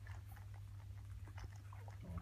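Two-week-old pedigree Bichon Frisé puppies scuffle, giving faint, scattered squeaks and grunts over a steady low hum.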